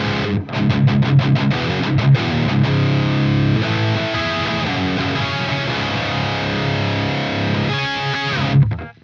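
Loud, distorted electric guitar chords from a Sonicake Matribox 2 Pro with delay and reverb off ring out steadily without added echo, starting with a few quick strums and ending abruptly.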